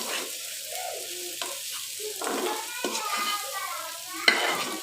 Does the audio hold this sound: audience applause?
no